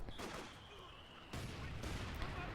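Mortar fire and other battlefield shots in Company of Heroes 2 come as faint, rumbling bursts, with two sharp, heavy impacts landing close together amid a busy wash of distant gunfire.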